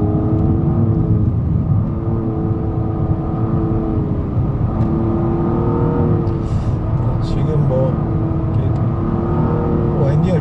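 Nissan Maxima engine heard from inside during a test drive, a loud continuous drone with steady harmonics held for about ten seconds, with someone talking over it.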